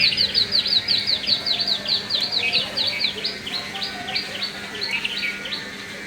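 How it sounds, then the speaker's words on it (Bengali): Tiny songbird chirping in the morning, a rapid run of sharp, high repeated tweets close by, steady and fairly loud over a faint background hum. "এই টুকুটুকু ছোট্ট পাখি তার গলার আওয়াজগুলো যা শুনলে।"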